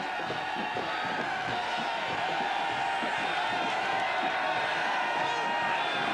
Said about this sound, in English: That cheer is in reaction to the camera, maybe not necessarily the flag on the field.